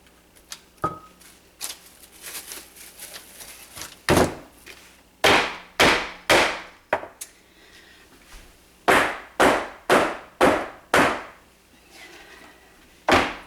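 A fragile soap mold for shaving soap, sitting in a tray, is banged down repeatedly: sharp hollow thuds, first scattered and then in quick close bursts of three or four, loud and near, no voices.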